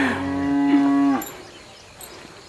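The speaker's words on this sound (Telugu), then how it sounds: "అక్కడక్కడ ఆవులు" A single cow lets out one loud, close moo in a village setting, a sustained tonal call lasting about a second before breaking off, followed by quieter outdoor background.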